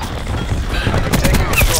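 Gunfire in the video game Call of Duty: Black Ops 4, a burst of loud, close shots and booms over a brief span, with a voice speaking at the start.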